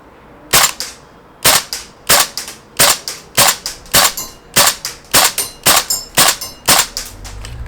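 A Tokyo Marui AKM gas blowback airsoft rifle fires single shots, about eleven sharp, loud cracks each with a short mechanical clack, spaced roughly evenly at just under a second apart.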